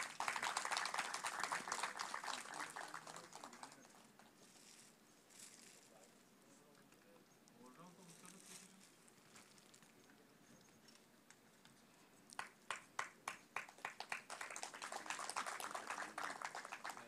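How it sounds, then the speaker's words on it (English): Audience applause at a women-in-cinema event starts strong, dies down to murmuring and quiet talk, then returns as a few sharp individual claps that build back into fuller clapping. "Can I have a round of applause for it, please?"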